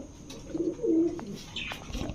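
Pigeons coo at a bird market selling teddy, Lahori and racer breeds, a soft, low, rolling coo rising near the middle of the moment with light background noise.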